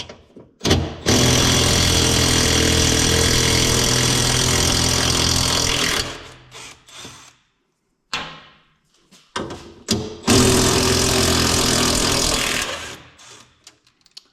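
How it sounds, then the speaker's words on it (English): An impact wrench hammers loudly in two long bursts of several seconds each, removing Loctite-coated bolts while changing a C8 Corvette DCT transmission filter, with short pauses and clunks between them. "I'm gonna go get a power tool to make this a little quicker."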